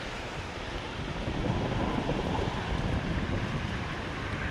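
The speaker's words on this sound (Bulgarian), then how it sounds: "Мен вятъра за малко да ме издуха" Strong wind roars across the microphone in a continuous, loud rush, swelling slightly midway, with no voices heard.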